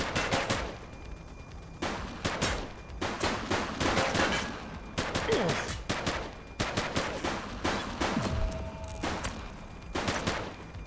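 Gunfire from a police shootout in The Precinct video game: repeated sharp shots in irregular clusters and short rapid bursts, loud and close, filling the scene with barely a pause.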